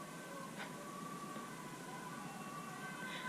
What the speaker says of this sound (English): that howls along with the ambulance